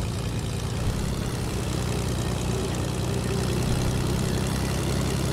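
Propeller plane engine droning in the video game Fortnite, a loud, steady low rumble that holds without change throughout, with no voices over it.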